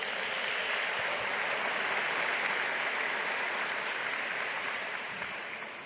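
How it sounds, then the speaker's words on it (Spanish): Continuous applause from an audience at a church youth conference, a dense steady wash of clapping that holds loud throughout and tapers slightly toward the end, with no speech over it. "¿Cuánto le damos fuertes palmas a Jesús?"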